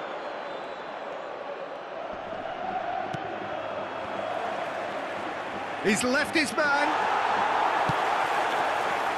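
Steady crowd roar in an eFootball 2022 Madrid derby match between Real Madrid and Atletico Madrid, a dense stadium wash running throughout under a commentator's voice, with a brief burst of sharper sound near the end.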